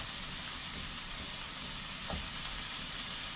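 Raw beef sizzles steadily in a pan that calls for a wooden spoon, a dense continuous frying hiss close up with one brief louder crackle and no voices.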